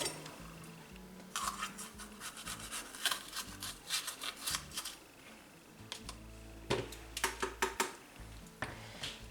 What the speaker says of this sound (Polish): i kroimy w paseczki, ale nie takie przez całą paprykę, tylko takie krótkie